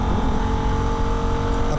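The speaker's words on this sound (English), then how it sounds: "Now it's wide open throttle for several kilometres as we cross the 11 kilometre mark." A Holden VF Ute runs at wide open throttle on the Nürburgring, its engine holding a loud, sustained drone at high revs throughout, with a voice talking over it.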